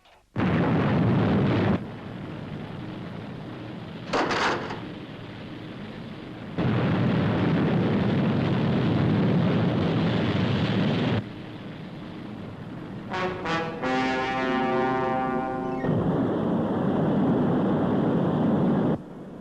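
A rocket engine ignites and launches with a heavy, rumbling roar in bursts of several seconds each, separated by quieter stretches and short sharp crackles and hisses. The scene is from the puppet science-fiction series Fireball XL5, with no talking.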